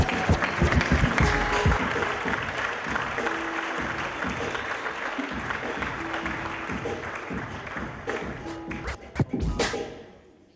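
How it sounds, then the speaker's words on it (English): A summit audience applauds a director being introduced on stage, a broad wash of clapping that starts strong and slowly fades over about ten seconds, with a few scattered shouts. "please, start clapping right now and give it up for the beautiful director, Joy Bivens"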